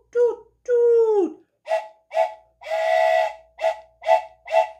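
A train whistle imitated by voice: a long falling hoot, then a string of short, evenly spaced whistle-like toots sung close and clear, with one longer held note among them.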